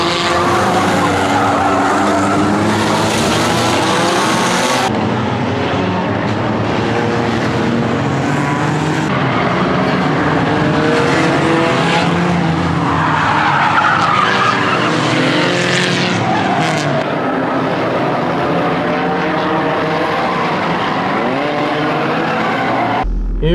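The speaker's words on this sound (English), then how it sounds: "Enduro race time, 2 laps down and counting." Cars racing flat out in a night-time enduro race with deliberate crashing, one running with a barely fitted radiator cap: a loud, continuous roar of engines with squealing, skidding tyres throughout, close and without a break.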